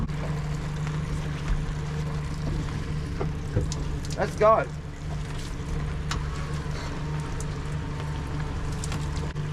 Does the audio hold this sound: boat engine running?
yes